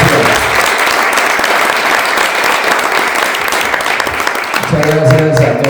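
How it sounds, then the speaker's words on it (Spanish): A rock talk-event audience gives a loud, dense round of applause to welcome a guest, sustained clapping that fades near the end as a voice begins speaking. "recibámoslo con un aplauso muy fuerte"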